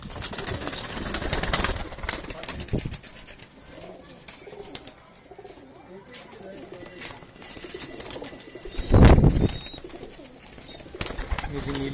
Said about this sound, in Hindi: ओवरऑल आपको दिखा देते हैं कबूतर